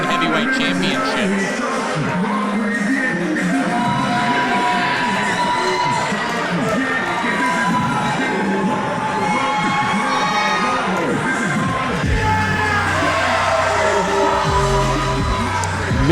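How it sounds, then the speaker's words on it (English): Wrestling crowd at an Atomic Pro Wrestling event giving a mixed response to JJ Avery's entrance, loud sustained cheering, shouts and yells over entrance music, with a commentator talking throughout. "Mixed response from the crowd, though."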